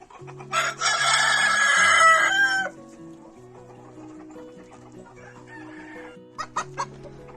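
Hens wearing chicken saddles cluck nearby, with a loud rooster crow early on and scattered short clucks and squawks afterward.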